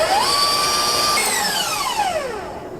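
An electric mixer beats eggs, melted butter and cake mix very close by, its motor whining loudly and steadily, then shifting pitch as the speed changes.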